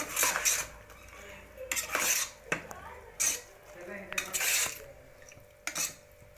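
A spoon stirs khichdi in a metal pot, giving several separate scraping and clanking bursts of utensil against pot at irregular intervals, close up with quiet gaps between.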